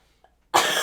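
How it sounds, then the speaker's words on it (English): A single loud, close cough bursts out after near silence, from a performer at a microphone before singing in a lounge. "Let me just cough to make sure it's not gonna happen like mid-song."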